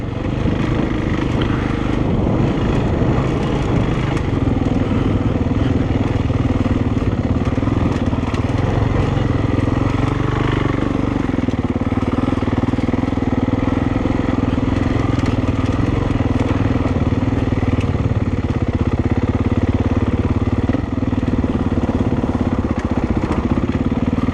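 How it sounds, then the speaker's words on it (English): A 450 dirt bike coasts downhill on a trail with the brakes on, its engine holding a steady buzzing idle with slight pitch wavers, near and continuous for the whole stretch. "Riding the brakes down here, just coasting it down."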